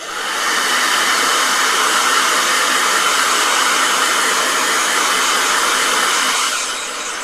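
A hair dryer blows steadily on a wet watercolor painting, a loud continuous whoosh that holds for about six seconds before easing off.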